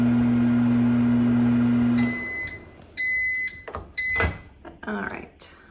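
A microwave oven runs a steam cleaning cycle with a steady hum, then stops with a series of beeps. Clunks and rustling follow while someone talks.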